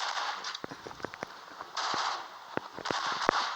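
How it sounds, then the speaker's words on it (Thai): Gunfire from a commando shooter video game: a quick series of sharp, punchy shots in scattered bursts over a faint background hiss, fairly close and with no talk. "เสียงปืนนี้โคตรหนักนะครับผม"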